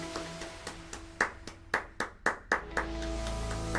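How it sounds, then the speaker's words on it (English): Several separate hand claps ring out in an uneven rhythm over soft piano notes after a Yiruma 'Kiss The Rain' piano lesson, sharp and close, too sparse to form full applause. "Give yourselves a round of applause"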